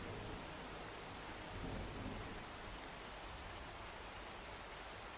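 Steady rain from a thunderstorm falls along a road, a constant dense hiss with a faint low rumble of thunder swelling briefly, heard from a distance and without voices.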